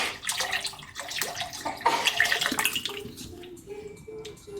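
Stock pours into a pot for polenta with a continuous close splashing gurgle that stays fairly loud for several seconds before thinning out, while a person talks faintly in the background.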